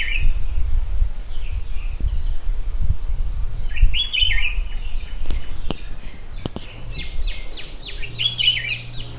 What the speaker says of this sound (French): je te laisse quelques minutes avec les oiseaux que tu peux entendre autour de moi